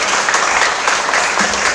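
A loud, sustained round of audience applause at the close of the first session of a university public debate, dense, continuous clapping from a large crowd, close and full throughout.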